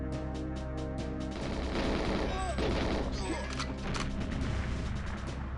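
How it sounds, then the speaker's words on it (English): A grenade blast in GoldenEye 007 amid rapid gunfire, a sharp burst of explosive noise breaking through dense shooting and game music, loud and close throughout. "That was a grenade."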